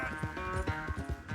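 Galloping horse hooves in Red Dead Redemption 2, a steady rhythmic clip-clop of a ridden horse, close and continuous with a music bed underneath.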